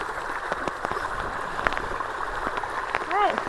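Rain-fed water runs steadily through a small waterfall at a roadside culvert on a dirt road during a rainstorm, a continuous rushing wash with a few brief knocks and a short whistling sound near the end.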